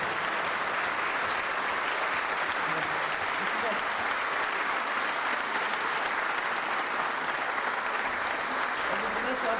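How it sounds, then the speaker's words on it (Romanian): Dense, steady applause from a large audience at a university graduation ceremony for a food engineering and tourism faculty in Arad, honouring the graduates' parents, loud and continuous throughout with a faint murmur of voices underneath. "Haideți să mai aplaudăm o dată pe părinții noștri"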